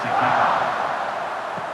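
A college football stadium crowd at Iowa State versus TCU roars before kickoff, a dense, loud and sustained wash of cheering from a distance.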